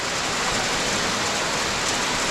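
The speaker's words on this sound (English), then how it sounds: "Another update. It's raining harder." Heavy rain pours down in a late summer thunderstorm, a dense, steady hiss of drops on surfaces, loud and unbroken throughout, with no talking.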